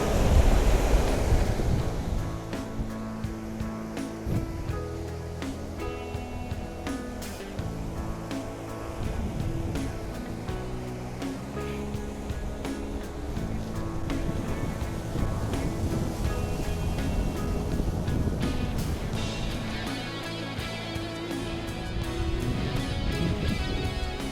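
The Río Blanco river on the Fitz Roy day hike in Patagonia rushes steadily and loudly, a continuous wash of water noise with wind gusts across the microphone and no talking.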